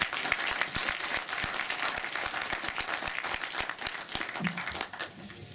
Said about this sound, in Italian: Un applauso ve lo chiedo io di nuovo